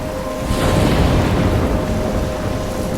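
A thunderstorm in the video game Life Is Strange rumbles loudly and steadily, with heavy rain and wind washing over a deep, continuous roll of thunder that swells slightly after the first half-second.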